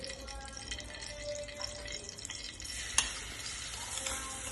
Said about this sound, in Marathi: छानपैकी तेलामध्ये थोडंसं परतून घेऊ